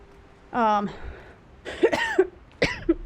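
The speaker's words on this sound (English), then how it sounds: "I'm trying to cough here" A person coughs once hard and harshly, then follows with a few more rough coughs and throat-clearing sounds, close to the mic, during a Guild Wars 2 gaming session.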